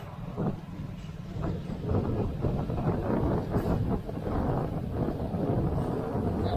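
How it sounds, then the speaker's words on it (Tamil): Gusty wind buffets the microphone outdoors at a jackfruit festival in Panruti, a low rumbling roar that swells and dips in uneven bursts. "நல்லா காற்று அடிக்கிறது எல்லாமே கொஞ்சம் ஜில்லுன்னு இருக்குது"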